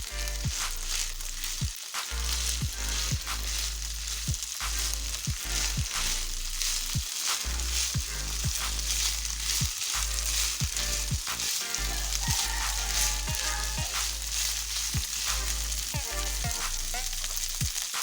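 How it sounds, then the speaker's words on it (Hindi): Minced beef keema fries over raised heat in a pan, a steady close sizzle with frequent sharp scrapes and clacks of a spoon against the pan throughout, no voices. "ये आंच को थोड़ा तेज़ करके इसे और फ्राई करेंगे कीमे को"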